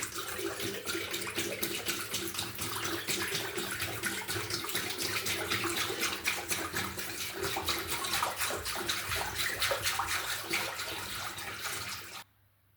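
Five litres of aquarium water poured out into a basin or drain, a steady, close splashing gush that runs without a break for about twelve seconds and then stops abruptly.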